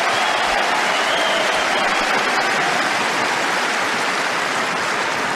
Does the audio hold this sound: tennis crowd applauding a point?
yes